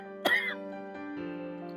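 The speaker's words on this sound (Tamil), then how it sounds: "எனக்கு இருமல் பயங்கரமா இருக்கு." A single short cough near the start, quiet and close, from a person with a bad cough, followed by a low steady hum.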